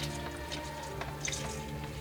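Automatic transmission fluid from a 2008 Subaru Forester 2.5L drips onto cardboard in soft, irregular close taps over a low steady background hum, with no talking.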